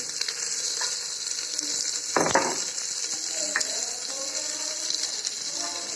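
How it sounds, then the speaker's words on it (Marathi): Onion, tomato and green chilli sizzle steadily in hot oil for a spiced sprouted-moth-bean and rice khichdi, with scraping stirs and one louder clatter partway through; no talking. "त्याच्यामध्ये टोमॅटो आणि हिरवी मिरची टाकते आता हे चांगलं हलवून घ्यायचं"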